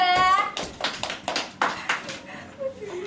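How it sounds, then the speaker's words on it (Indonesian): Classroom of students clapping for a student group, a handful of loud, rhythmic claps following a brief voice at the start, then a faint voice near the end. "Beri tepuk tangan kelompok 3."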